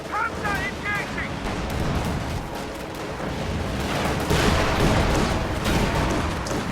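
A WWII strategy video game battle, with a Raketenwerfer rocket launcher firing at an EZ-8 tank amid gunfire: a loud, continuous barrage of booms and shots. A voice talks over it.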